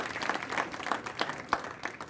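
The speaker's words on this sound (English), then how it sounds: "Let's give our Mistress of Ceremonies a big round of applause." Audience applause at a Heritage event, a fairly steady wash of many hands clapping with sharper individual claps standing out, moderately loud and continuing for a couple of seconds without talk.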